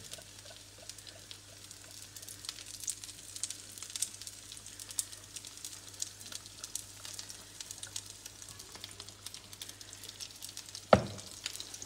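Grated potato galette frying gently in olive oil over low heat, a quiet steady crackle and patter of small pops with a low hum behind, and one sharp clunk near the end.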